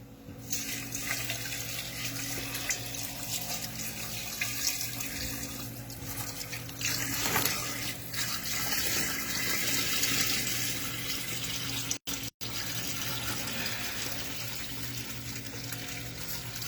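About a gallon of water pours steadily into a pot for a split pea soup broth, a continuous close splashing stream that runs unbroken, briefly interrupted near the end.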